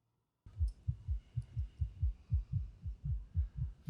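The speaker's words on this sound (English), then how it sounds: "Why's your heart beating so fast?" Fast heartbeat sound effect in a TV drama: a regular, rapid series of deep thumping beats, about three per second, loud and isolated after a brief silence.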